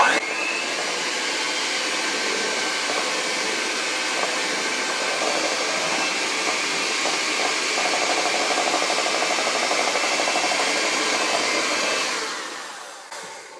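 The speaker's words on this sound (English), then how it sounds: "And now we will be adding our rum and mix it, and then when it's all added, then we can stop." Electric mixer whirring steadily as rum is blended into eggnog, a loud continuous hum close by that holds for most of the stretch before winding down near the end.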